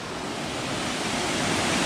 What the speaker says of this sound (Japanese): 五階滝発見しました。